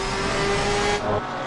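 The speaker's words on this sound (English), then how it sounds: "Love the engine noise as well from this car." Race car engine in Assetto Corsa Competizione at Watkins Glen, a steady droning whine with a sustained tone that dips briefly near the end, loud and continuous.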